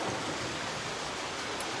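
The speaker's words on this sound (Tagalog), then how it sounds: "Ang lakas ng ulan dito." Dense, steady hiss of heavy rain pouring down, constant and close with no pauses.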